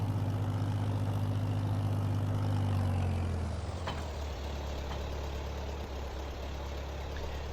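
An old 50-horsepower tractor engine from the Farming Simulator 22 game idles with a deep, steady rumble, its low drone shifting partway through, continuous and close with no talk.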